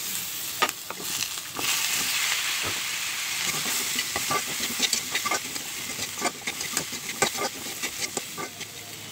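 Shrimp curry with salt and turmeric is stirred in a hot pan, with an ongoing sizzle broken by frequent irregular scrapes and clatters of the spoon against the pan, close and fairly loud.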